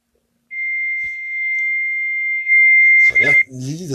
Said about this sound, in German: das ist ein Fax